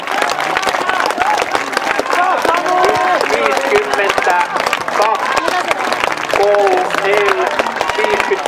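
Crowd applause for runners in a men's 800 m race: steady, dense clapping from the stands carries throughout while a commentator keeps talking over it in Finnish.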